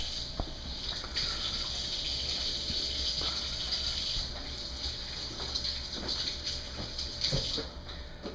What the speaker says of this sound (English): So Miss Linda, the first thing that we're going to do is to wash our hands as usual